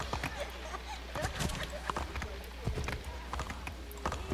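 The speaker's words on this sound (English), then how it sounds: "Sorry, it's my horse. He's crazy." Horse hooves clip-clopping in Assassin's Creed 3, a steady trotting patter of game-world footfalls with someone talking over them.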